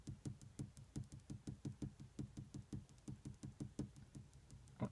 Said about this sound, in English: you need to tap 10 times on the top left hand side of the screen